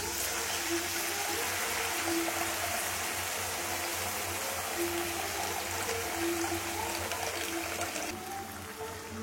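Ground paste and tamarind water pouring into a pan for a tamarind ginger dish, a continuous loud watery rush and stream that holds steady for most of the clip before easing slightly near the end.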